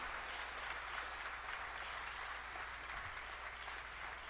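Audience applause for performers at a school annual function, a continuous, dense roar of clapping from a large crowd, steady and somewhat distant, with a low hum beneath.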